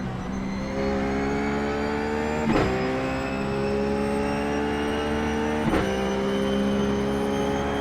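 A Ruf GT3 race car engine in iRacing at Phillip Island drones loud and close, pitch climbing steadily through the gears with two sharp upshifts breaking the rise.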